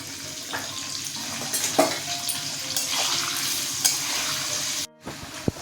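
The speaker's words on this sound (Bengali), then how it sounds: "একটু নুন আর একটু হলুদ দিয়ে সামান্য লাল লাল করে একটু ভেজে নেব" Potatoes seasoned with salt and turmeric fry in hot oil for a chicken curry, a steady close sizzle with occasional stirring scrapes and clinks, cutting out briefly near the end.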